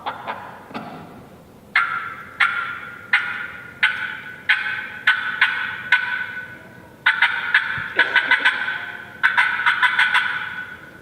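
A turkey hen call, likely made with a hunting call, gives a series of sharp, loud cutting notes in quick irregular bursts that build faster, with brief pauses between clusters, close and clear with no talk.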